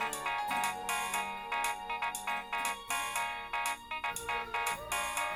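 Melodic phone ringtone for an incoming call, a bright repeating electronic tune with rhythmic pulses, moderately loud and alone without any talk.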